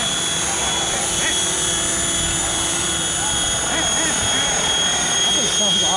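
A radio-controlled model jet aircraft engine roars steadily and loudly throughout, a continuous whining turbine noise with people talking over it.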